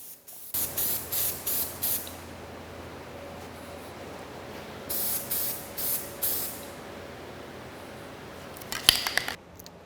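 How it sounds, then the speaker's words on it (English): An aerosol spray can paints a restored American No. 1 miter trimmer in short repeated hissing bursts, close and clear, with a pause and then several more bursts and a few clicks at the end. "Just lay down a nice layer of paint."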